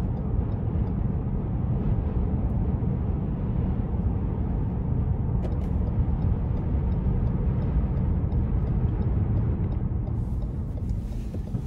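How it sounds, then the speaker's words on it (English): A 2014 Lexus GS350 F Sport with its V6 engine and exhaust drones steadily at a low pitch while driving, heard as continuous cabin rumble with faint ticks and road noise. "Very nice exhaust sound and good sound from the engine."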